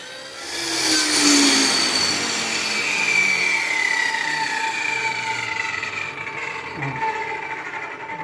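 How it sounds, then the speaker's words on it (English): A table saw makes a rip cut through PVC, a steady whining hum with a rising and falling pitch that runs continuously at moderate loudness throughout. "we're gonna kick this saw on, line it up, and make this rip cut"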